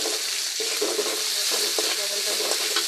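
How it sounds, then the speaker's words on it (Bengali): Drumsticks sizzle and fry in a little oil in a pan while salt is stirred through them, a steady bright hiss broken by a few scraping stirs across the cooking vessel. "লবণটা নেড়ে করে নিচ্ছি"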